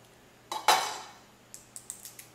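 A knife chops through broccoli florets on a board in a home kitchen, one sharp crunching cut followed by a few lighter quick taps, close and clear with no talking.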